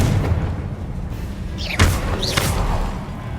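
In the Hogwarts Legacy video game, a Confringo spell goes off as a single muffled boom with a thud, followed by whooshing magical swishes over a steady rumbling game background.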